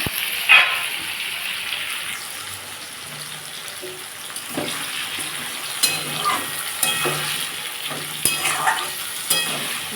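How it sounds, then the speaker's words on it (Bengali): Vegetables frying with a hilsa fish head for Malabar spinach chorchori, a loud, steady sizzle up close broken by intermittent scraping stirs of a spatula, with no talking. "সবজিগুলো ভাজা হয়ে গেছে"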